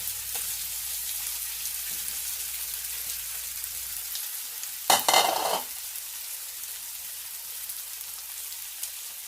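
Beef browning in a hot pan on high heat, a steady close sizzle throughout with a brief louder burst of crackle and stirring midway, no talk.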